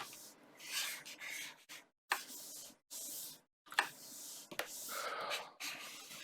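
An eraser rubs over pencil lines of an anime-style traced drawing on paper, in close, scratchy bursts of rubbing broken by short pauses, with no voices.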